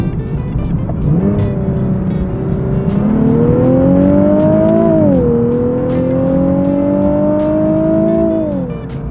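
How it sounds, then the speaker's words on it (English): A Nissan Z sports car with its stock exhaust revs up and settles, a smooth, fairly muted engine tone that rises, dips and climbs again in pitch over several seconds, steady and close throughout. "stock exhaust sounds super muted. You kind of lose that iconic VQ sound"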